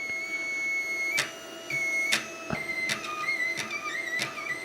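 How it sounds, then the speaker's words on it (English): A stepper motor driven by a single chip lifts a load, giving a steady whining tone that steps up and down in pitch, broken by sharp clicks at each move. It is close and fairly even, with no talking. "the step motor lift the height without any kind of the difficulties"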